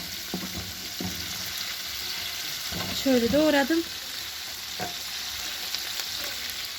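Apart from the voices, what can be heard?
peppers frying in hot oil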